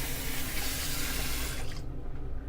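A shaving brush rinsed under a running tap, steady loud splashing water that cuts off abruptly near the end.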